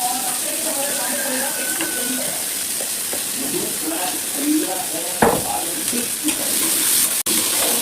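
Chopped onion and green chili hiss and sizzle steadily in a hot pan of oil, a constant close frying sound with a brief clatter and a sharp knock near the end.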